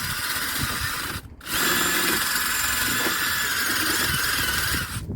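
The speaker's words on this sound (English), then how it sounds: "I've just got a little rotary wire brush on the end of my drill" A drill fitted with a small rotary wire brush whirs while cleaning bolt threads on a Toyota Yaris Mk2 XP90 front strut. There is a loud, steady high-pitched burst, a brief stop, then another long sustained run.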